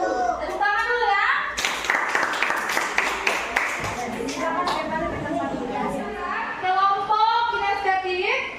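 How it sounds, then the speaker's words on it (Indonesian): A school class claps hands together during a lesson, a dense round of clapping in the middle of the clip, with children's and a teacher's voices talking before and after it. "Tepuk tangan dulu ya."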